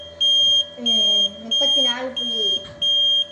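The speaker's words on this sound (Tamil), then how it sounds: "எவ்வளோ நேரம் ஆகும் தெரியலையே பீப் சவுண்ட் வருதுக்கு." Repeated electronic beeps in regular bursts from an egg incubator alarm, a steady high-pitched tone cycling on and off, with a voice speaking underneath.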